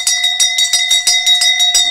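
An alarm bell rings loudly in rapid, evenly spaced strikes, about five per second, with a sustained bright metallic tone throughout.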